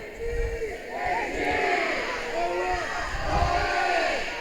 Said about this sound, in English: Dragons fans on their feet cheering for their team